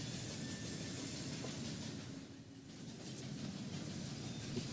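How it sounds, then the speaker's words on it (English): A train passes in the video game Murdered: Soul Suspect, giving a steady rumbling hiss with a brief dip midway before swelling again, heard alone without talk. "Well, it's a train."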